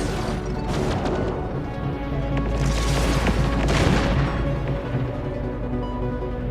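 Missiles firing during an Endless Space 2 space battle, a loud rumbling barrage with booms and crashes that swells in the middle and then settles into a low steady drone.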